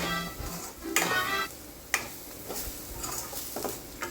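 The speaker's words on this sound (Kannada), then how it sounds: "ಇದನ್ನು ಕೂಡ ಫ್ಲೇಮ್ ಸಿಮ್ ಇಟ್ಕೊಳ್ಬೇಕು, ಚೆನ್ನಾಗಿ ಫ್ರೈ ಮಾಡ್ಕೊಳ್ಬೇಕು" Masala with turmeric, red chili powder and garam masala frying on a low flame for kadhai paneer, with a soft steady sizzle and a few spoon scrapes and knocks against the pan.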